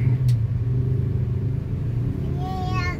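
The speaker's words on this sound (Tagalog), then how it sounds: "Heavy traffic." Heavy road traffic on Katipunan Avenue in Quezon City, a steady low rumble of car engines with passing vehicles throughout, one engine rising in pitch near the end.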